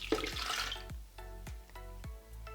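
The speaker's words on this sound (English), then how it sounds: "First of all, I'm gonna add the Maté tea, which is about 100 milliliters." About 100 milliliters of maté tea poured into a blender for a morning smoothie: a faint, brief splash of liquid at the start, followed by soft repeated drip-like knocks.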